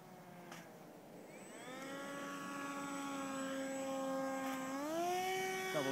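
A radio-controlled ParkZone Icon A5 model float plane flies over Wood Lake in Oyama, British Columbia, its electric motor whining at a distance and swelling louder as the pitch shifts while it passes.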